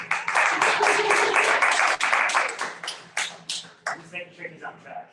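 Applause from an audience at a weekly gathering, dense clapping for about three seconds that thins into a few scattered, separate claps before fading.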